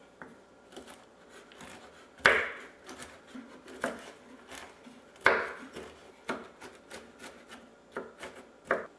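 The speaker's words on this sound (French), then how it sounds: "A l'aide d'un couteau, on va les concasser." Walnut kernels being crushed with a knife on a board, a series of sharp irregular chops and crunches, two heavier strikes standing out, close and clear with no talk.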